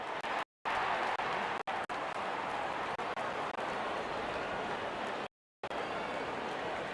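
Stadium crowd cheering and applauding steadily in the cricket video game Real Cricket 2026 as the openers walk out for India vs Pakistan, a dense, loud, continuous roar with two brief drop-outs.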